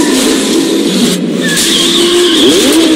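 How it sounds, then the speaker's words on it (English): A car engine roars and revs loudly in a trailer for The Crew 2 racing game, one continuous close, powerful growl whose pitch climbs and swoops, with no talking over it. "The roar of the engine."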